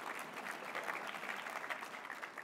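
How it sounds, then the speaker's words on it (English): Steady applause from the audience at a White House conference on hunger, nutrition and health, a fairly quiet, even wash of clapping that continues for a few seconds with no voices over it. "you can clap on that one"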